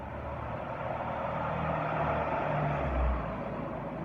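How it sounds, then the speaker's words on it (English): A big truck rolls past on the road, its low engine rumble steady and swelling slightly toward the end as it nears, heard alone for a few seconds. "Big truck right there."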